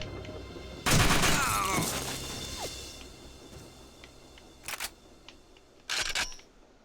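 Gunfire aimed at the player in the shooter game TimeSplitters 2: a loud burst of shots near the start, then two shorter bursts a few seconds apart, with quiet game ambience between.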